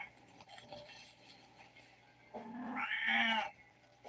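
A domestic cat gives a drawn-out meow that swells loud, then fades, heard alone over a quiet room background.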